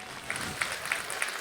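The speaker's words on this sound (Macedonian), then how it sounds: "а аплауз заслужуваат и следните гости" An audience applauds at a folk festival after a performance by a folk ensemble from Kosovo, a steady roar of clapping with crisp individual claps over a crowd.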